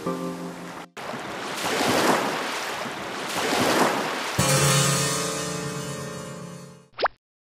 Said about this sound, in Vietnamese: sóng biển lên sát lâu đài gác của chúng ta rồi